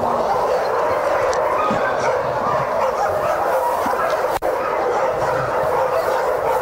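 A dog at an animal shelter barks and yips amid a dense, loud wash of other dogs barking and whimpering, with the din continuous throughout.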